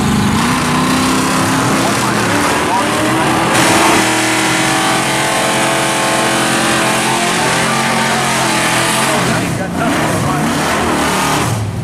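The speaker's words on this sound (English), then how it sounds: "Now this is a 12-second car, it's a 12-second Bel Air." A 1955 Chevy Bel Air drag car, a 12-second pro street machine, roars loudly down the drag strip, its engine climbing through revs with a shift partway through, while a commentator talks over it.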